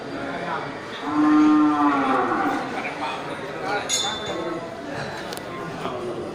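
A Brahman cow at a busy livestock market in Geurugok lets out one long, loud low moo early on, with crowd chatter and metallic clinks around it.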